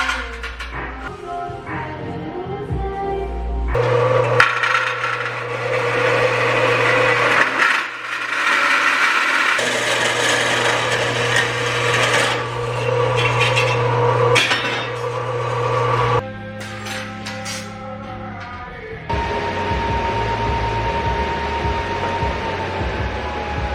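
Metal is cut for a tail light mount on a GS750 cafe racer motorcycle build, with a power tool droning in long bursts, loud and close, between pauses and clanks of metal being handled.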